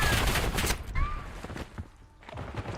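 Gunfire in a shooter video game: dense bursts of rapid shots crackle at moderate volume, pause briefly, then resume, with no clear speech over them.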